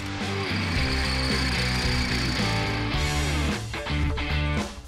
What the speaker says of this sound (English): We'll drill out the rear suspension arms, put the provided sleeves in the channels